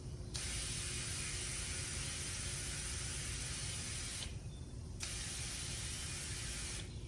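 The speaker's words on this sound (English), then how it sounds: "So we're gonna spray the plug, move it around a little bit, make sure it's not leaking" A spray bottle of soapy water mists a plugged tire to check it for leaks: close, steady hissing bursts, a long spray, a short pause, another long spray, then a brief cut-off near the end.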